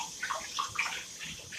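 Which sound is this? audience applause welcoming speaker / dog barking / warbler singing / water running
water running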